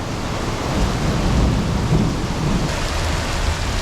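Steady broadband wash of rain, with low rumbling like distant thunder, on a rainy road during a cycle tour, continuous and fairly loud with no talking.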